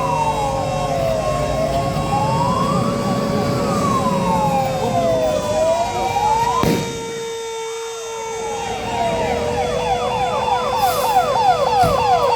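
A fire engine arrives with its siren blaring during a district mock drill in Lakhimpur, sweeping up and down in repeated wails and fast yelps, briefly dipping before resuming loud and near.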